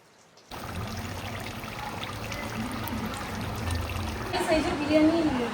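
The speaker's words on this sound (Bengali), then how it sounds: "দেখো জল ফুটে গেছে, এবারে চালগুলো ঢেলে দেবো।" Biryani rice being tipped into a pot of boiling water, a steady rushing pour that starts abruptly and swells slightly toward the end, close by, with a voice faintly present.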